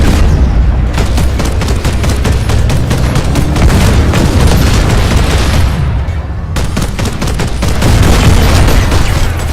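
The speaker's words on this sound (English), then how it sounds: "The sound effects of the cannons in this game is absolutely ridiculous." Rapid, heavy tank cannon blasts and booming gunfire in the video game PlanetSide 2 pound almost without pause, loud and close, with a brief lull before the barrage resumes.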